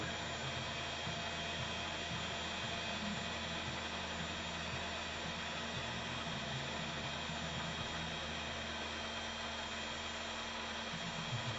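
A heat gun blows steadily over a reed cane arrow, a constant close whooshing roar with a low fan hum that holds unchanged throughout.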